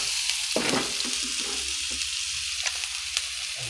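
Onion and garlic sizzle in a hot pan for fried rice with minced fish, a steady close frying hiss with a few sharp crackles and stirring clicks, with no one talking.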